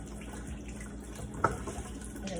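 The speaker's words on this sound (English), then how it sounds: "The water's running clear." Tap water runs steadily into a sink while tie-dyed fabric is rinsed until the water runs clear, a soft even trickle with one small splash midway and no talking.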